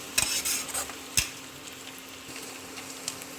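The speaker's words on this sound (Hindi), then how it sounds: "देखिए इसको लगातार चला रहे हैं, ज़्यादा इसको लाल नहीं करना।" A spoon works continuously through coarsely ground fried onion paste in a pan for mutton korma, giving a steady close scraping and soft sizzle with a few sharp clinks against the metal.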